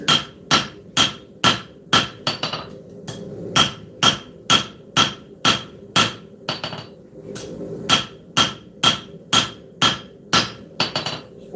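A smith's hammer strikes a blade on an anvil while thinning the tang during forging, sharp ringing blows in a steady rhythm of about two per second, close and loud, with no talking.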